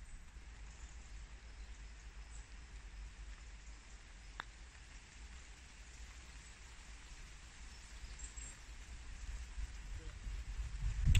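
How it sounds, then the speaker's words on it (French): Rain falls steadily on a golf course, a soft, even hiss under faint wind rumble that grows louder near the end. "comme vous pouvez voir, il pleut"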